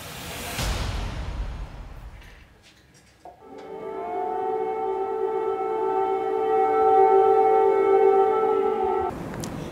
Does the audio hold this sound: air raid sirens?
yes